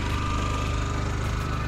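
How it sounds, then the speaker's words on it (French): A portable generator drones steadily and evenly, a continuous mechanical hum with a rapid regular pulse, running alone without any voices. "ce que vous entendez là, c'est on fait tourner le groupe électrogène."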